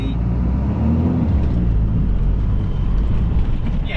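A Ram 5500 dually truck on 35-inch tires pulls away hard in second gear, its engine a loud, steady roar that holds for the whole stretch with no voices over it.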